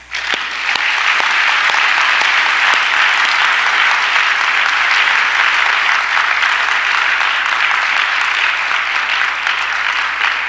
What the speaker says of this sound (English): join in a round of applause for the Clinton School faculty and